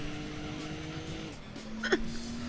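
A Lister Storm race car in Gran Turismo 2 spins out, a short tire squeal rising briefly over a steady engine drone near the end.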